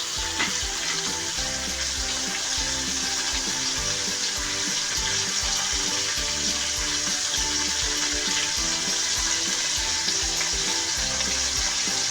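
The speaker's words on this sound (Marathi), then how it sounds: "छान परतून द्यायचं तेलात आणि मिठात" Bitter gourd sautéing in oil with salt and turmeric, a steady close sizzle with dense frying crackle and occasional stirring scrapes running throughout, no voices.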